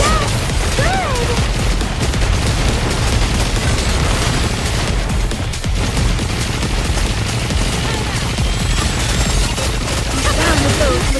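Sustained gunfire and explosions in the video game Nikke, a dense, loud, continuous barrage of shots and booms with brief voice lines mixed in.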